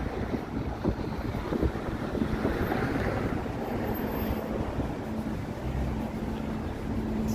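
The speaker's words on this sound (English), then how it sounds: "So it's really windy here" Gusty wind buffets the microphone on Bloor Street in Toronto on a cold, blustery morning, making a continuous low rumbling whoosh with no voices.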